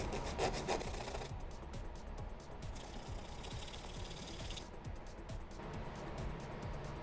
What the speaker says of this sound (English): I'm just going to kind of hold this at an angle and take a little material off this edge